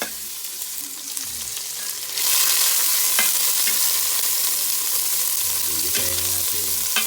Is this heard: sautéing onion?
yes